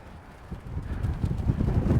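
Low, rumbling wind buffets the microphone at a hilltop viewpoint, growing stronger and gustier toward the end, with no voices.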